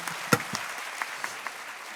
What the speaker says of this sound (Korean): 박수 전해 주시죠